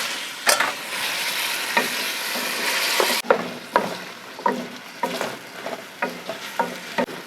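Large bone-in beef pieces are stirred into hot sizzling masala in a pot, a near, continuous sizzle broken by repeated scraping and clattering strokes.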